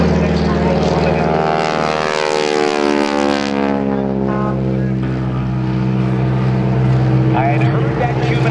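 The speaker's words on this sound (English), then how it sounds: "It is a very heavy World War II trainer." A heavy World War II propeller trainer airplane flies at an airshow, its loud droning engine shifting pitch as it passes, with an announcer talking over it throughout.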